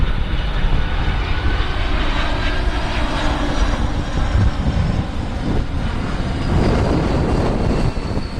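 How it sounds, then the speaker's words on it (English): Engines of a UPS Airbus A300 cargo jet arriving from Pittsburgh roar loud and steady throughout, a broad continuous rumble that swells slightly near the end, with no voices. "UPS 5562, it's an Airbus A300. They're coming in from Pittsburgh."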